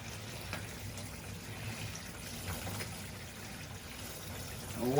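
Water trickles and splashes steadily out of an engine oil pan during a JDM engine swap, a faint continuous pour under low background noise.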